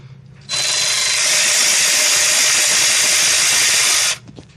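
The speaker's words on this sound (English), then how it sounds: "let's go ahead and get this 10mm bolt right here out so we can get this ABS sensor out" Power tool spinning out a 10mm bolt holding the rear ABS sensor on a Nissan Sentra during wheel hub work, a steady high-pitched whirring run lasting about four seconds, close and loud, with no talk.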